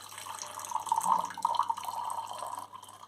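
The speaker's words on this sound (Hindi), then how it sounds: "ये देखिए मैंने डाल दिया है इसके अंदर गर्म पानी" Hot water is poured into a printed magic mug, making a close, continuous trickling and splashing stream for about three seconds that tapers off at the end, with no speech.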